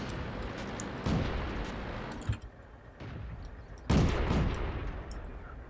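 Tank cannon fire in World of Tanks, with artillery in play: booming shots land about a second apart, the last and loudest near the end, over a steady rumble of battle noise.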